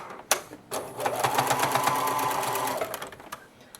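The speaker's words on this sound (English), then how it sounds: "you need to layer them and just sew the points where they attach together" A sewing machine stitching layered fabric pieces for child boxer briefs runs in a steady, close whirring burst after a couple of sharp clicks, then slows and stops.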